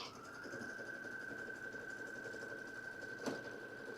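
A computerized embroidery sewing machine stitches a notebook cover with a steady, faint mechanical hum and a constant whine throughout, plus a small click near the end, without any voices.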